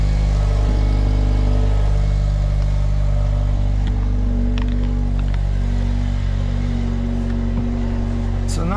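A cold-running 2023 Jeep Compass with its muffler deleted idles loudly and steadily nearby, a raspy buzzing exhaust drone with little bass that holds constant throughout, with a few faint clicks over it.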